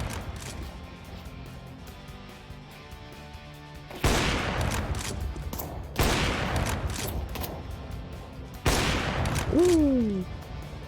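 Rapid bursts of gunfire from a scoped weapon in a video game, three loud volleys of sharp shots over a constant game background rumble, with a brief rising-falling tone near the end.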